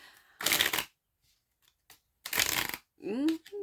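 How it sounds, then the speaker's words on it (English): Spread Crafters Oracle deck cards shuffled in two loud, close bursts of rapid papery riffling about two seconds apart, followed by a brief voice. "Let's do that shuffle again."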